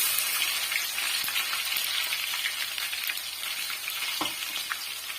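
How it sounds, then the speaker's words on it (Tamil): Whole dried red chilies and crushed garlic sizzle steadily in oil for a mango pickle, a bright crackling hiss with scattered pops and one soft clink of a utensil. "பாருங்க, நல்லா பொரிஞ்சு வருது"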